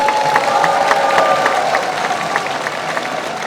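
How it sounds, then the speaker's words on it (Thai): A large audience at a Pheu Thai party rally in Thailand claps and cheers continuously, dense and loud, with occasional shouts rising above the applause. "ปรบมือให้สายเลือดใหม่ ต้อนรับอย่างอบอุ่นครับ"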